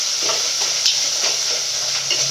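Two tomatoes sauté in hot oil in a pan for a chicken curry gravy. A steady, close sizzle runs throughout, with a few soft stirring scrapes and taps, and no talk.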